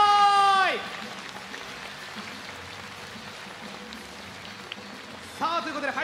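A crowd at a YouTuber-versus-pro basketball exhibition game applauds in a steady, even wash of clapping, with a voice briefly heard at the start and again at the end.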